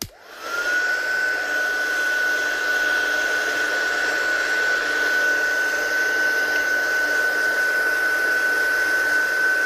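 A hair dryer drying a watercolour painting made with ink pads, giving a steady, loud, close whirring roar with a constant high whine that starts abruptly and runs unbroken throughout, alone.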